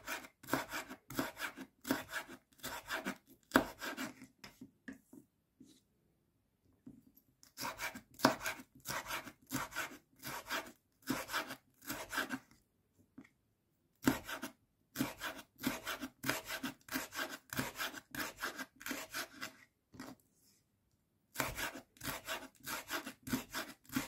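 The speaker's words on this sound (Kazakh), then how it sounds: "Осыны да жіңішкелеп соломка қылып турап аласыздар." A knife cuts sweet red pepper into thin julienne strips on a cutting board, a quick rhythmic run of close, crisp chopping taps that comes in bursts separated by short pauses.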